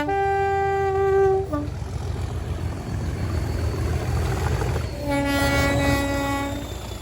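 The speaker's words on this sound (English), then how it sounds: "a double-header 37 emergency stop, punctuated by some very panicked-sounding honking" Two Class 37 diesel locomotives running double-headed, sounding long loud horn blasts during an emergency stop, one sustained blare, a short second toot, then another long blast over heavy engine rumble.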